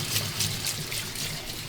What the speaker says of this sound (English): make sure to wash with the cold water